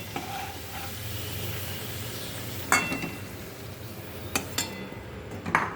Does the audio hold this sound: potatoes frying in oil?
yes